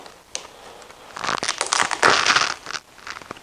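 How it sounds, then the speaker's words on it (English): Protective film peeled off a part of a street fighter motorcycle build, giving a loud crinkling, crackling rip that swells in the middle and tapers off, with no talking. "Then you can start peeling it off."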